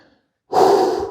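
A single heavy, close breath, drawn after climbing up to a lookout point on a Silk Road trip, follows a moment of near silence and trails off slowly.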